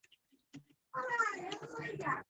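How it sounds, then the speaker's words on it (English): A pet cat meows in a drawn-out, wavering call lasting over a second, close and fairly loud, after a few faint soft sounds. "this is my kitty cat"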